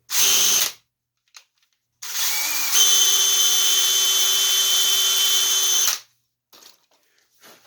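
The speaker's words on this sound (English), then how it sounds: "drill a 1/8 inch hole about 3/4 of the way through this piece of wood." A power drill whirs briefly, stops, then runs steadily for several seconds while boring a 1/8 inch hole into a wooden love seat piece, close and loud, ending abruptly.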